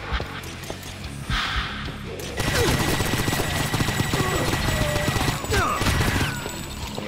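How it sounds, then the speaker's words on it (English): Dense, rapid gunfire and explosive crashes from the first-person shooter Painkiller, a continuous loud barrage of shots that swells midway and keeps going to the end, with no one talking. "I'm getting shot from behind"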